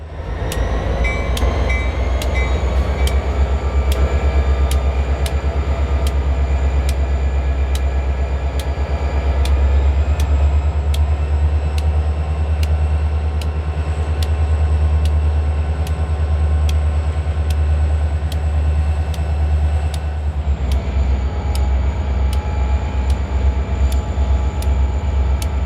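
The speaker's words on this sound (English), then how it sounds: "the crew shoved the train down the spur into the plant, picking up the loaded ethanol tankers for the journey east" A Kansas City Southern freight train shoves loaded ethanol tank cars down a spur into a plant, with a loud, steady low rumble, regular clicking over rail joints and a thin high squeal, close by and with no talk.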